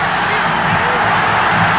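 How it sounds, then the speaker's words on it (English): Stadium crowd roaring at a Brazil versus Venezuela World Cup qualifying football match, a steady, dense wall of cheering and yelling that holds loud and unbroken throughout. "And you can hear the early roars from the crowd."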